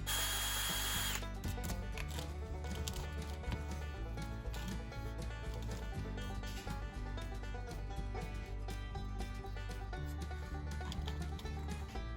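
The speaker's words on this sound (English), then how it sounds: "I'll go ahead and drill some holes in it now for the line tie hooks." A small power drill whirs continuously at high speed, drilling holes into a fishing lure carved from a palm frond, its pitch wavering slightly as it bites in, steady and close throughout.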